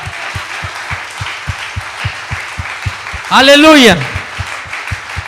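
A church congregation claps in a steady rhythmic beat through the whole stretch, with a loud sung or shouted exclamation breaking in briefly near the middle.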